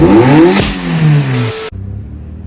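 A Daihatsu Mira engine revs hard as the car pulls away, its note raised and thinned by a funnel, a loud, steady, rising drone that cuts off abruptly and leaves a low idle.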